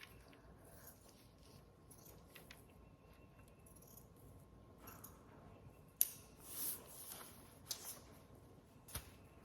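Scissors make faint snips at close range while cutting a handmade Easter decoration, with scattered light clicks and a few sharper cuts toward the end.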